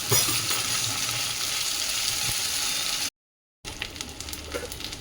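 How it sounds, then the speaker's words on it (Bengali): Ginger fries and sputters in a pan with green chillies and turmeric, a steady close hiss and crackle that cuts to brief silence, then resumes with sharper pops. "হলুদটা দিয়ে দিলাম আদাটা চিটকাচ্ছে"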